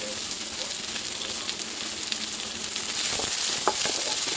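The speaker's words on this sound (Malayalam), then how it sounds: "പിന്നെ കറിവേപ്പില. ഇതിട്ടങ്ങ് നല്ലതായിട്ട് വഴന്ന് വരട്ടെ." Curry leaves sautéing with onion in a pan, a steady close sizzle that grows slightly louder toward the end with a few stirring scrapes, no voices.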